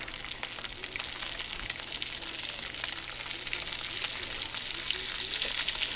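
Onions sizzling and frying in a pan for liver and onions, a steady crackling hiss with faint stirring, continuous and fairly close, with no talking.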